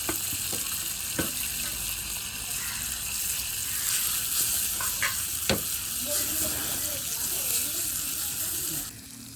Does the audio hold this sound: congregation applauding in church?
no